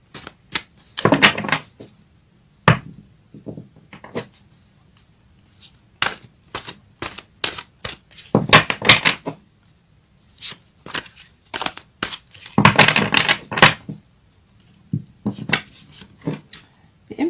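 Fairy Tarot cards being shuffled and handled, giving irregular bursts of riffling and flicking with sharp taps and clacks between quieter pauses, close and fairly loud.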